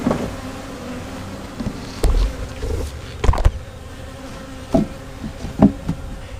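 Rescued bees in swarm mode fly around a hive after being vacuumed from a tree, a close, loud buzzing drone with bees zipping past the microphone in sharp bursts, punctuated by several clunks and knocks.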